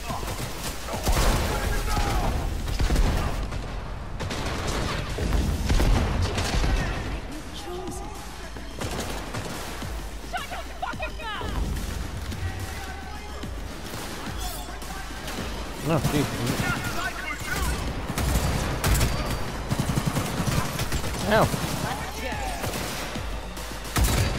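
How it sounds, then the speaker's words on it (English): Loud gunfire during a Cyberpunk 2077 firefight, with sniper shots among dense bursts and crashing impacts across the whole stretch, under frequent excited talk. "Oh shit, that's a sniper."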